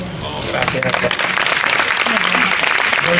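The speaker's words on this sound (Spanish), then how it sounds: "ese aplauso para Javier" Sustained audience applause at a gastronomic-literary dinner event in Elche, a room full of steady clapping that swells slightly and holds throughout, with a voice speaking briefly over it.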